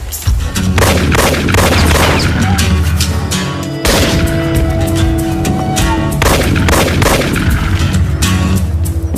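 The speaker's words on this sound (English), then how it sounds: "Good shooting, Ray." Loud, close gunshots in a Canadian police TV drama, repeated booming reports over a steady low rumble, with a short pause midway.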